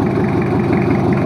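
A freshly rebuilt Toyota Kijang 2L diesel engine idles steadily nearby, a low, even rumble with a rhythmic chug and no other sounds.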